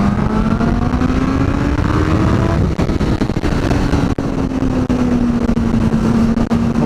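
Suzuki GSX-S 1000 motorcycle on a test ride, engine note rising steadily under acceleration then easing, a continuous close whine with wind rush and no talking.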